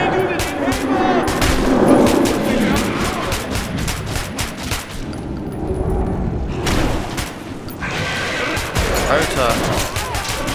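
Rapid gunfire from the video game Metro 2033 Redux, dense bursts of automatic shots and booms filling the clip continuously, with players talking excitedly over the shooting.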